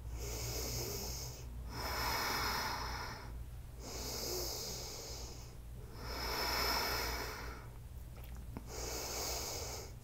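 Slow, deep breathing during an evening yoga flow, several long drawn inhales and exhales in a steady rhythm, close and fairly quiet, over a low constant hum.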